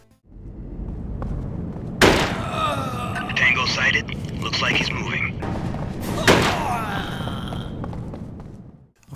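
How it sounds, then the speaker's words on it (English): Gunfire in a PS2 Navy SEAL tactical shooter: two sharp, snappy shots about four seconds apart ring out over radio-style voices talking. "Gunfire is snappy, adding to that tactical feel of the game,"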